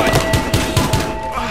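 Rapid gunfire crackles in the video game Battlefield Hardline, a loud burst of about five evenly spaced shots that fade toward the end.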